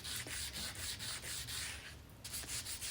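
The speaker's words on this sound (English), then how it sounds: "and I sanded all the varnish off the wood" Hand sanding with 80 grit sandpaper strips old varnish from the wooden parts of a vintage Macomber floor loom, a steady rhythmic rasping of back-and-forth strokes, close and even, with a brief pause near the end.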